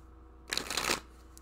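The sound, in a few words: shuffling tarot cards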